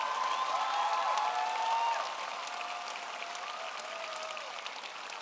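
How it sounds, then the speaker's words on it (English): Applause from an audience at a robotics district championship awards ceremony honoring leadership award finalists, a dense steady patter of many hands that stays loud for about two seconds, then eases slightly and carries on through the rest. "One more round of applause for all of our First Leadership Award finalists"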